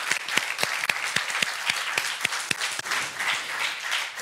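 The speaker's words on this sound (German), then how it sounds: "Nochmal Applaus." Audience applause at the closing presentation of a youth hackathon, a moderate crowd clapping steadily with some sharper individual claps standing out, no voice over it.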